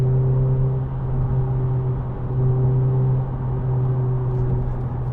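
2010 Renault Clio Renaultsport 2.0 VVT three-door held at about 4,000 rpm, a loud steady engine drone with strong even tones inside the cabin, dipping briefly before resuming, no talk.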